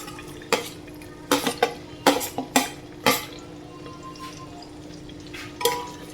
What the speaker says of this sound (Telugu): ఇది ఉల్లిపాయలు మగ్గేంత వరకు ఇలా కలుపుకోండి